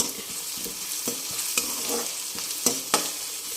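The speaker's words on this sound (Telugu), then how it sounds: "కొంచెం అల్లం ఎల్లుల్లి పేస్టు నేను ఎప్పటికప్పుడే దంచుకొని వేసుకుంటుంది అలా అది కూడా కొంచెం పచ్చివాసన పోవాలి" Ginger garlic paste frying in a pan with onions, sizzling softly at moderate distance while a utensil stirs and scrapes in a few sharper clicks, with no talking.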